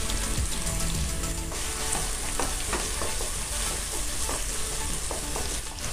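Chopped medium onions fry and sizzle in a pan for milk rava upma, a steady close hiss with occasional stirring clinks, no voices.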